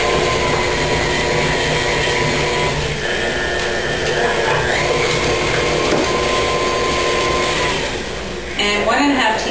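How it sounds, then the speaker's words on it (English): An electric mixer whirs steadily, beating two whole eggs into creamed butter and sugar for homemade chocolate chip cookie dough. The loud, continuous motor drone holds throughout and dips briefly near the end. "And now we're going to blend in 2 whole eggs."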